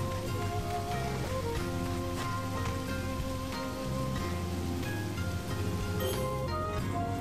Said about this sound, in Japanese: 雨降ってんだよな。